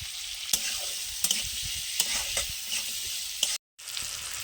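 Hog plum sour dish being stirred in a frying pan, steady sizzling with periodic scraping strokes of the spoon, close and alone.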